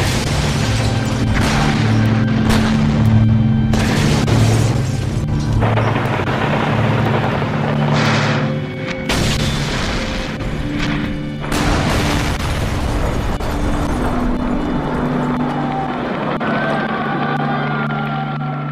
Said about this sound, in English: Boris Yeltsin bombed his own parliament.